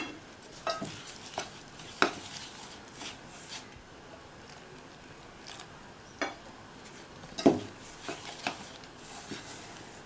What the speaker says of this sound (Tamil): அப்படியே வெந்நீர் விட்டு பிசைகிறேன்